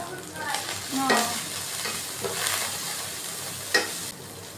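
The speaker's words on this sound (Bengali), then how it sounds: "মশলাগুলোকে একটু নেড়ে চেড়ে রান্না করে নিতে হবে" Spices with ground coriander and ginger paste being stirred and fried in hot oil with chopped onion, a soft continuous sizzle under a few scraping stirs and one sharp clack of the spoon near the end.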